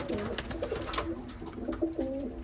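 Several pigeons coo in a stock loft fitted with perches, their low rolling calls overlapping steadily and close by, with no talk over them.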